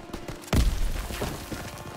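A grenade explodes in the World War II shooter game Call of Duty WW2, one sudden deep boom with a rumbling low tail, fairly quiet overall amid faint background game sounds.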